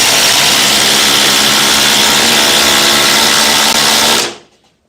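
A cordless power tool on a fully charged 5 amp-hour battery drives a 6-inch by 5/16 GRK structural screw, a loud steady whine running continuously for about four seconds before stopping abruptly.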